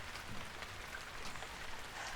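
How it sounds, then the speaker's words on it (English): Steady rainfall during a school stage production, a soft constant patter and hiss that holds evenly throughout, heard alone without speech. "I just don't want to listen to that rain anymore."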